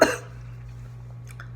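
A single short, sharp cough bursts out close by at the very start, then fades to quiet room hum.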